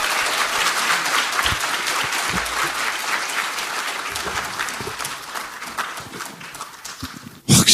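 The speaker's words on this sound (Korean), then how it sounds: "큰 박수 부탁드립니다." An audience at a Democratic Party new-members academy event in Korea gives loud, sustained applause as guests are welcomed. The dense clapping carries on for several seconds, thins slightly toward the end and then cuts off abruptly.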